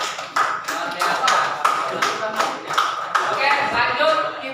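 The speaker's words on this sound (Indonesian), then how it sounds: "Beri tepuk tangan dulu untuk kelompok 2." A classroom in an economics lesson applauds presentation group 2, with brisk clapping from many students and a few louder, sharper claps over steady hand noise, under light voices.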